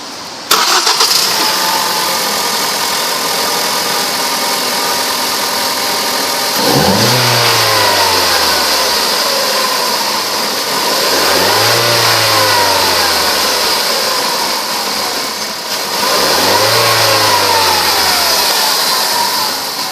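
A 2012 Ford Focus engine cranks and catches, then idles evenly before being revved three times, each rev swelling and falling back to a steady idle, heard close and alone.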